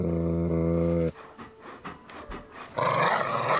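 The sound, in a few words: pit bull dog panting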